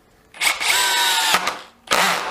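A Hitachi DV18DBFL2 cordless drill spins below full throttle in two bursts, a long whine of about a second, a brief pause, then a second run starting, close and clear with no talk.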